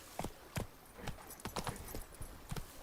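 Roach, Geralt's horse in the video game The Witcher 3, gallops with quick, rhythmic hoofbeats clopping in uneven groups of two and three, fairly quiet and with no talk over them.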